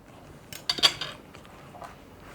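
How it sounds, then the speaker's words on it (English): A knife cuts a piece of sweet cornbread on a plate, making a short burst of scraping and clinking against the dish before things go quiet again. "Let me cut a piece of this off"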